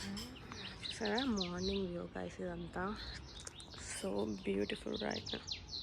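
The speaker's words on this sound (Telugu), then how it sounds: "అండ్ ఆ బర్డ్స్ చర్పింగ్ సౌండ్ చాలా పీస్ఫుల్గా ఉంది" Birds chirp and tweet at sunrise on a rooftop terrace, with a steady run of bright calls close by while a person talks over them.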